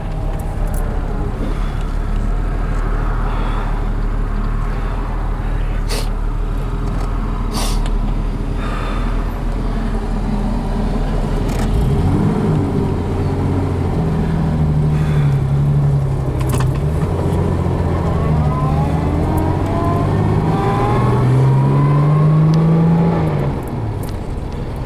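A 1960 Jaguar Mk 2 with a 3.8 liter engine drives at a steady, loud hum from inside the cabin, the engine note dipping and rising as it shifts gears partway through.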